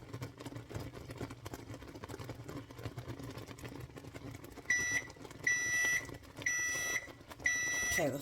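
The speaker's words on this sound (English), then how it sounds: "Okay, the 4 minutes is up on the timer" Kitchen timer beeping while peanut butter fudge cooks on the stove, four evenly spaced loud electronic beeps entering near the end over a low hum of kitchen background noise.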